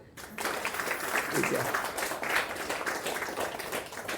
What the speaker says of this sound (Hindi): ताली बजाओ अच्छी तरह